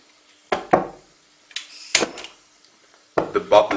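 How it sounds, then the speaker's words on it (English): Small bubbles of ethyne gas from calcium carbide reacting with water pop in sharp, separate bursts, a few close cracks with short gaps of quiet between them. "The bubbles explode, and that's the sound."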